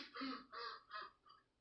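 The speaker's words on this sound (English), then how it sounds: "Oh, the ducks are outside." Ducks quack outdoors in four short, nasal bursts, fairly faint and distant, the last call softer than the rest.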